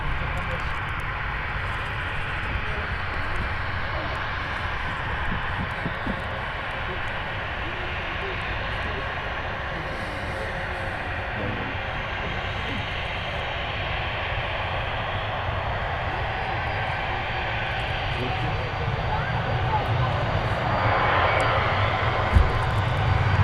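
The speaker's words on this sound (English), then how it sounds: "Ryanair rolling as well." A Ryanair jet rolls for takeoff at Manchester Airport, its steady engine roar filling the scene and swelling slightly toward the end, with voices talking over it.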